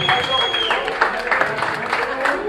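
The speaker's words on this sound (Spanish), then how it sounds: "Un aplauso para el Skills" Audience clapping and cheering for the dancer Skills at an open-style dance battle final, a loud, dense burst of applause from a crowd mixed with shouting voices throughout.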